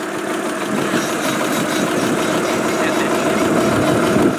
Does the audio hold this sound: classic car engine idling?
yes